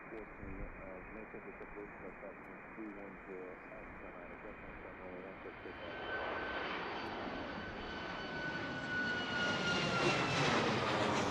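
A plane takes off at Washington Reagan National Airport, its engine roar swelling and growing louder through the second half after an opening stretch of radio voice chatter.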